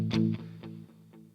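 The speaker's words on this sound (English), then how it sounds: "Now you'll hear I've got a little bit of delay" Electric guitar with a light delay effect plays a few distorted notes; the echoes repeat and fade quickly.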